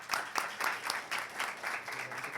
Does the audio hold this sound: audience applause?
yes